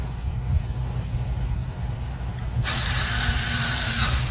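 Small screws are driven into an SSD caddy inside an ASUS Transformer Flip TP500L laptop, with a low mechanical rumble giving way to a sustained, brighter whirring partway through.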